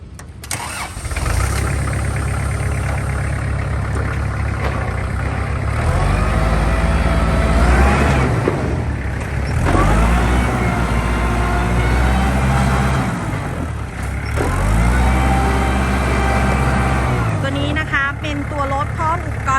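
A Kubota L4508 tractor engine runs steadily through the whole stretch at a dealer's lot, a low continuous rumble with slight swells, while a person talks over it for much of the time.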